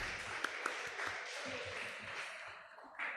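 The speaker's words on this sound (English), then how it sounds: "Another round of applause for them, please." An audience at a university rule-of-law debate and poetry competition claps for the panelists, fairly faint and thin applause with a few sharper individual claps, fading toward the end.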